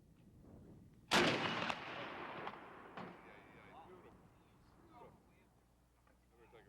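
A single heavy boom from a ship's cannon at a stationary live-fire exhibit, with a long rolling echo that slowly fades, faint voices around it.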